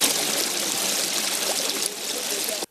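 Broadband rushing water from a tall waterfall in central Nigeria descending from the Jos Plateau, a steady dense roar that cuts off abruptly at the end.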